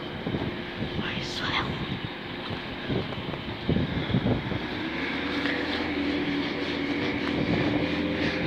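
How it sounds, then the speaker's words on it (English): A train rumbles and hums as it pulls away, a low steady drone building under wind noise and a few faint voices. "Let's get this train as it departs right now."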